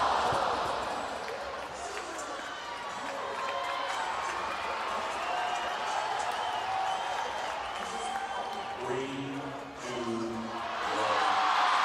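Crowd at the 2017 CrossFit Games snatch event cheering for Cody Mooney, a steady roar of cheers and applause that swells near the end, with a commentator talking over it.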